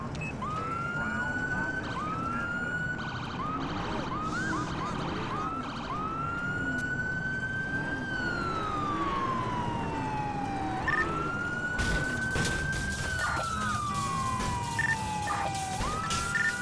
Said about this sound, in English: Keep your siren on.